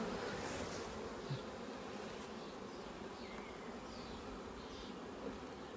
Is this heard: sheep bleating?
no